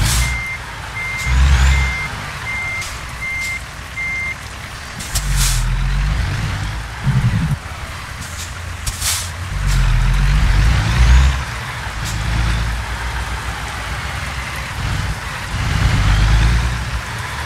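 Engine rumble and reversing beeps from a Peterbilt truck in American Truck Simulator, with low diesel drone and brief air-brake hisses running steadily throughout at close range.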